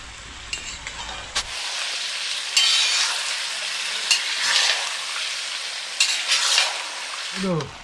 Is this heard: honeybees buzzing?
no